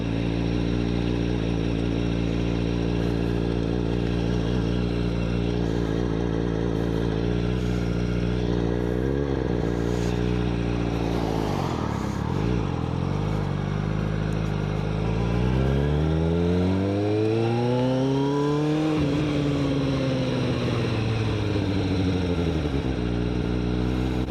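A used motorcycle that is not street legal, its engine loud and close while ridden in first gear, revving up and down with harmonic sweeps that fall away and climb again over steady mechanical clatter.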